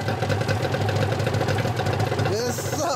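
A 1999 Honda Valkyrie SC34 motorcycle engine idles with a steady low throbbing rumble close by, while people talk over it and a higher whine rises near the end.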